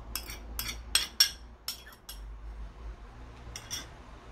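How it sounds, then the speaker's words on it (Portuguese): A utensil stirs cooked yam with olive oil in a bowl, making a few sharp metallic clinks and scrapes in quick clusters, close and fairly soft with quiet pauses between. "Vamos pegar os 200 gramas de inhame, misturar o azeite de oliva"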